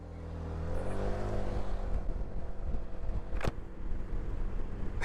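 A Honda PCX 150 scooter fitted with Malossi parts accelerating from a standstill, its engine droning and climbing in pitch as speed builds, with a bed of wind noise and one sharp knock partway through.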